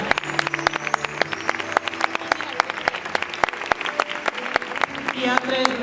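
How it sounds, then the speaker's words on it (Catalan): A theatre audience applauds at a staged performance of the Miracle del Mocadoret, with dense, steady clapping filling the whole stretch and swelling slightly toward the end. "Un aplaudiment per a ells també."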